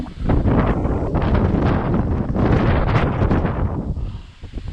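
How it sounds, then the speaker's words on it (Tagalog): Loud, steady wind blasts across the mic while a DJI Mini 3 drone flies outdoors, a dense roaring rumble that barely lets up, with no one speaking. "sobrang lakas ng hangin"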